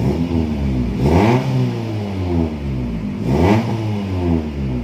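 Engine of a 2000 Suzuki Baleno revved twice in a garage, each blip rising in pitch from a steady idle and settling back down, loud and close with no talking.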